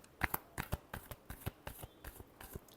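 Tarot cards are shuffled by hand in a quick series of crisp, papery riffles and taps, close and fairly quiet, with no talking.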